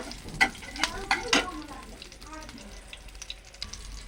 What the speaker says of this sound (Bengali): আমি দিয়ে দিচ্ছি গরম তেলের মধ্যে একটু সাদা জিরা আর 2 কোয়া রসুন